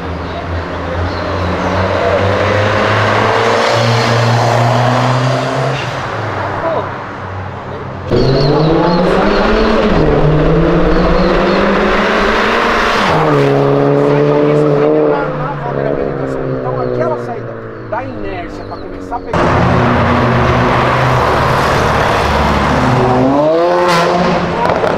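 A Ferrari and a Subaru sports car race along a road, their engines revving loudly through repeated rising gear pulls and passes, with excited voices talking over them.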